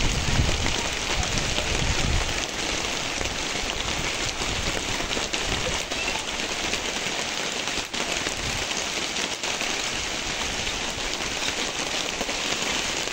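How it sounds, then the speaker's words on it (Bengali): Steady heavy rain at a goat farm, wind-driven, drumming on surfaces in a dense, continuous close wash with no voices. "দেখেন বৃষ্টি পড়তেছে, বাতাসও আছে অনেক"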